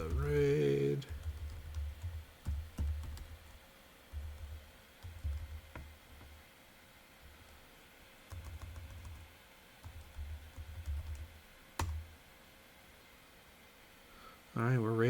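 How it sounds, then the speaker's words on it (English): Someone types on a computer keyboard in bursts of quick clicks separated by short pauses, fairly close and quiet, during a snowy-day game stream, with a voice talking at the start and end. "I need to use the keyboard"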